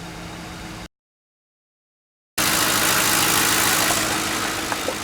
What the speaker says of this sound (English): That definitely idles.